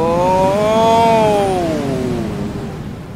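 A launched roller coaster takes off in the No Limits 2 simulation game, its loud, smooth motor whine swelling and then gliding downward in pitch as the train accelerates away.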